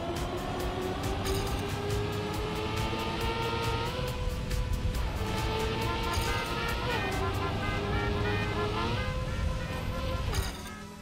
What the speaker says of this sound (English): Still out there honking. Keep honking. I'm honking.